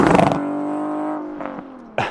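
An MK Sportscars Indy RX-5 sports car engine revs briefly, then idles with a steady low tone before a second short blip of the throttle near the end.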